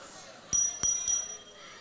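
A small bell rung by a pastor sounds three quick bright dings in a row, loud and close, over a faint murmur of people in the room.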